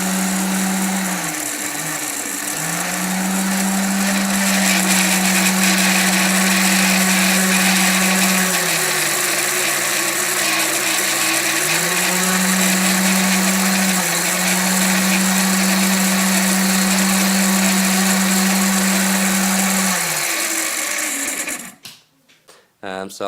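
Benchtop vacuum pump with speed set by a potentiometer, running slightly rough: a loud, steady mechanical drone that briefly dips in speed twice, then cuts off near the end with a clatter.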